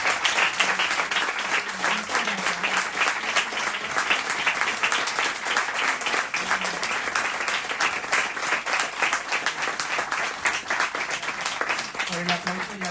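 Long, sustained audience applause after a literary reading by an author, dense and loud throughout with a faint voice briefly audible beneath it.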